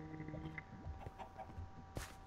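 Chickens in the video game Minecraft cluck in short, scattered bursts over a steady background hum, with one sharp louder squawk near the end.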